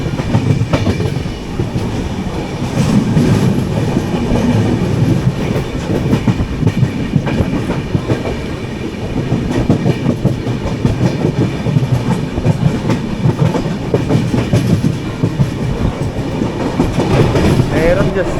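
Trivandrum–Chennai AC Superfast express running through a station without stopping, heard from on board: a loud, continuous rumble with rhythmic clickety-clack of wheels over rail joints throughout.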